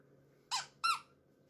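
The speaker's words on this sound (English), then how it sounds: "a squeaky, squeaky nutshell" A comic squeak sound effect rings out twice in quick succession, short, bright and rubbery, each a sharp chirp with a rising wobble, standing alone over faint background hiss.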